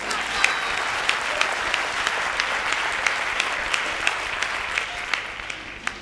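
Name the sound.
audience applause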